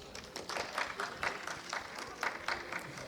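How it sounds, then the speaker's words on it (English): Audience applause at an Ibeji Day 2022 gathering, a dense wash of many hands clapping with rhythmic surges, moderately loud and steady throughout with no voice over it. "Give yourselves a round of applause."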